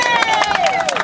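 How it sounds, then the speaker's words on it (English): A crowd claps and cheers in a big round of applause for a group of pilots, steady and fairly loud across the whole second, with dense clapping and a murmur of voices. "Big round of applause for our pilots"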